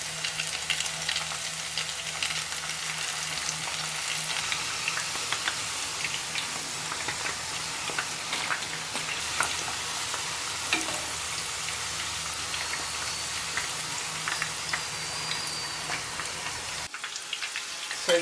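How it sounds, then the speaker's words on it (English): Small pieces of chicken fry in hot oil with a steady, close crackling sizzle that runs unbroken for the whole stretch, then drops away at the very end. "it doesn't take long to fry at all because the pieces are so small"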